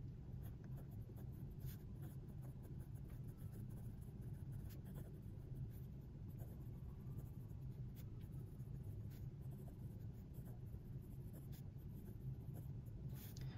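A Pilot Metropolitan fountain pen writes on paper with a faint, soft scratching of nib strokes over a low room hum, quiet and close.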